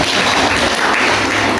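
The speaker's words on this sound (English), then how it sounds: "People, you clap." An audience of new students at a health institute welcome event claps steadily and densely for under two seconds, loud and close, with no voices over it.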